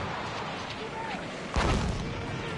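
In a tank video game, mortar rounds land with a sudden deep boom partway through, rising over a steady background rumble and faint whistling.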